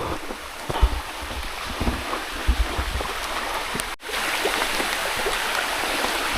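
Water from a waterfall runs over large rocks in a Palawan stream, making a steady, close rushing hiss with a few low thumps, and a brief dropout near the middle; nobody speaks.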